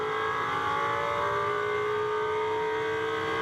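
A GT2 race car at speed through the long turns 15-16 section of the Algarve circuit, engine tone steady and sustained throughout with a constant wash of noise.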